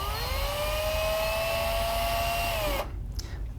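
A basic hand-held power drill bores through about 1 to 2 millimetres of 3D printed plastic, a loud steady whine holding pitch, then dropping and cutting out abruptly as the bit breaks through, leaving only faint handling noise.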